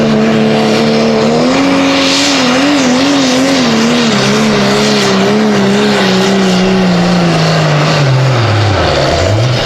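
A Dodge Pro Stock diesel pulling truck roars at full load, its loud engine tone rising and wavering steadily before dropping low near the end, with a steady blast of wide noise throughout.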